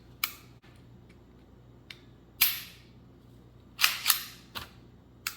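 Dry-fire trigger clicks from a Taurus TX22 pistol with an upgraded SAO trigger, several crisp, close mechanical snaps spaced irregularly, some doubled, in an otherwise quiet room.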